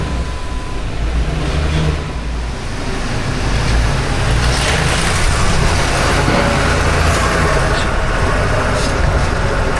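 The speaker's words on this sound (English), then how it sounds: "All right, let's get this thing up on the rack here." An accident-damaged, total-loss car is driven slowly up onto a garage lift, its engine producing a steady, continuous rumble close by, with traffic-like road noise throughout.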